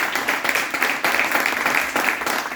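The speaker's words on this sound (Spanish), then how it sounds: "Este aplauso maravilloso" Lively applause and clapping from a young audience filling a seminar hall on youth challenges, a steady dense patter of many hands sustained throughout at a moderate distance.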